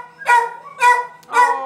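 Three loud, harmonic dog barks spaced about half a second apart, close by in an animal shelter, with a faint low hum underneath.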